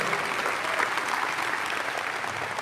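Congregation at a Catholic church service breaking into applause, a steady, fairly distant wash of many hands clapping together without pause.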